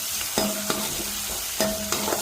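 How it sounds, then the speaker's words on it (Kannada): Chopped tomatoes with turmeric frying in a pan, a soft continuous sizzle broken by repeated scraping strokes of a spatula against the metal, close up and without talk. "ಟೊಮೊಟೊನ ಸ್ವಲ್ಪ ಮೆಲ್ಟ್ ಆಗೋವರೆಗೂ ಫ್ರೈ ಮಾಡಬೇಕು"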